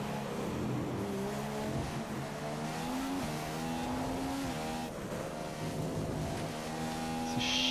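A McLaren F1 car in the F1 2015 racing game revs at the race start. The engine tone rises and falls in waves as the throttle is blipped, close and sustained, with no voices.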